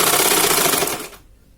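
A sewing machine stitches the shoulder seam of a lined batik shirt in a fast, loud, rattling burst that stops abruptly after about a second.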